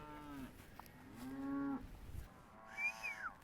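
Cattle moo as a herd is moved between paddocks on a regenerative farm: a few drawn-out, fairly quiet calls in short succession with gaps between them.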